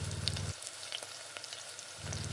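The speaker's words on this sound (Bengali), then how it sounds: "এক এক করে দিয়ে ভেজে নেবো" Moringa flower fritters frying in hot oil give a steady, close sizzle and crackle, with scattered pops and a brief dip in the hiss midway, and no voices.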